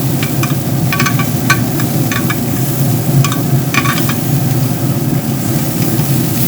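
Smoked sticky chicken wings sizzle on a hot cooking surface as they are flipped and rotated, a loud steady frying hiss with scattered sharp pops and crackles, no talking.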